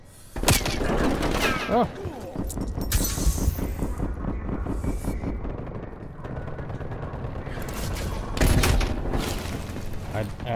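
Rapid automatic gunfire and sharp shots in Black Ops Cold War, loud bursts with booming impacts and mechanical clatter across the span, a player's brief exclamation heard over it.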